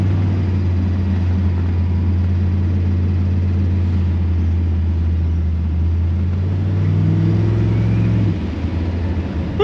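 A turbo LS-powered Holden Kingswood gives a loud, deep, steady engine drone heard from inside, a low rumbling hum that holds for several seconds before shifting pitch near the end.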